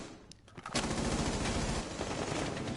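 A sustained automatic-rifle spray in a competitive tactical shooter match fires after a brief quiet gap, a rapid steady burst of shots lasting about two seconds at moderate volume.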